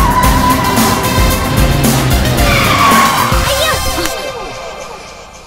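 A car brakes hard and its tires skid in a loud, sustained screech with shifting squealing tones, fading out toward the end.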